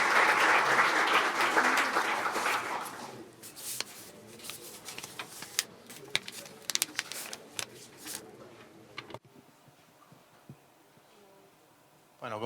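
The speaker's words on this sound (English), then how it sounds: "A round of applause, come on." An audience at a startup demo day applauds briefly in a dense burst that quickly thins to scattered claps, followed by quiet shuffling and handling noises.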